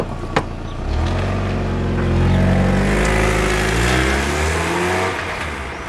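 A 19-year-old Mazda MX-5 roadster engine cranks, fires up and revs, the mid-pitched rasp rising and falling steadily for several seconds, close by with no talking.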